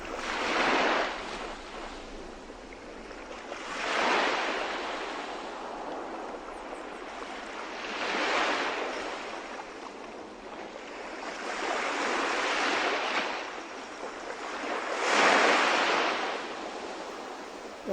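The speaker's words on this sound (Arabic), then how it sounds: "الصوت الموسيقي موج البحر تحتي بعمق مئات الأمتار" Open-sea waves swelling and breaking in slow surges roughly every four seconds, a broad washing hiss that rises and falls steadily, with no voices.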